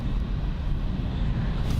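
An EasyJet airliner departing Bristol Airport, its engines a loud, steady broadband roar that holds unbroken throughout.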